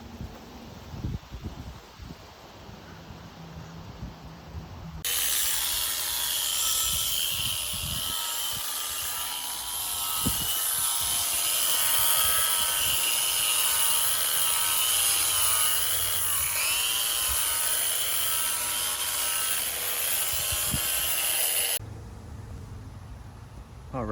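Grinding loose rust off a steel boat keel, a loud, sustained, whining abrasive roar lasting about seventeen seconds, with quieter rustling and handling noise before and after.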